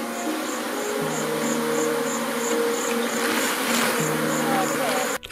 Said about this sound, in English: he has all bees under his command, and these bees react by protecting his body